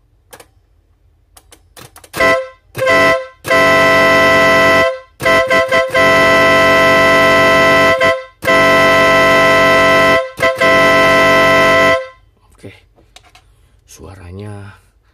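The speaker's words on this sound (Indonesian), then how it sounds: "yang pasti ini adalah klakson Nautilus" A loud, blaring 12-volt Nautilus snail-type electric car horn sounds in several long and short blasts, a bright buzzing tone, followed by a brief voice at the end.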